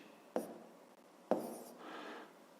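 Pen or chalk writing numbers for a long division problem, two sharp tapping strokes followed by softer scratching, quiet and close.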